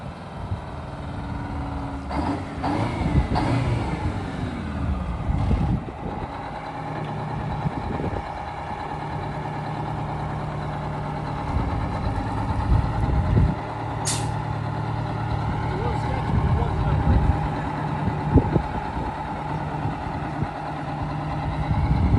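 An old cabover truck that sat for 27 years runs with a loud, rough engine rumble up close, with hissing air bursts and clanks over the steady idle.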